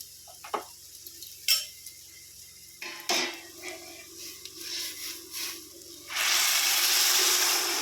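Water goes into a hot pan of fried ingredients for basanti polao. First come scattered clinks and scrapes of utensils, then a sudden loud, sustained hiss as the water hits the pan.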